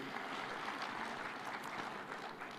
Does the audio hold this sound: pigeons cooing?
no